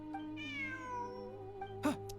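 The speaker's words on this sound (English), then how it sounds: "Kitty. Look, a cat." A cat meowing in an adventure video game, one long drawn-out mewing call followed by a couple of short clicks and a soft thud over a low background hum, with no talking.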